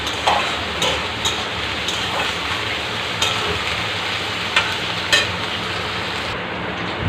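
Sliced onions and green chillies fry in a pan with a soft, continuous crackling sizzle, punctuated by a few sharp clicks of a spatula, close by and fairly steady.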